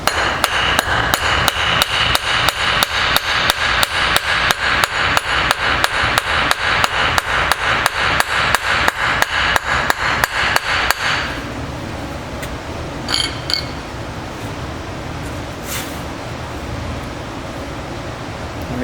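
Rapid, steady hammer blows strike soft, cheap metal parts seated in an aluminum engine block for a Mustang 5.4 build, about three sharp metallic hits per second for eleven seconds, then stopping into quiet room noise with a few light clinks.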